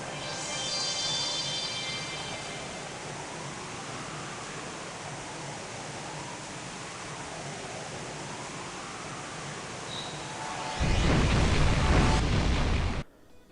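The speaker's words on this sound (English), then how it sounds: "the waves calm rapidly in the wake of the explosion" Underwater detonation of the Crimson Flame in the game The Legend of Heroes IV: a long rushing, churning water roar with wavering swells, then a sudden louder broadband burst near the end that cuts off abruptly.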